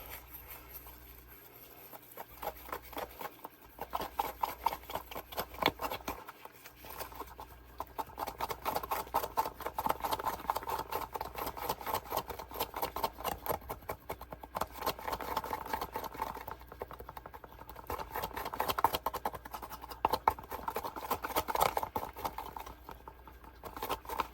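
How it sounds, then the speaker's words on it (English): Butter knife stirring and scraping two-part resin for homemade hard plastic fishing lures, a steady run of close, fast rhythmic scraping and tapping strokes against the mixing cup that carries on throughout. "Now we're going to mix this up. I like to use a butter knife."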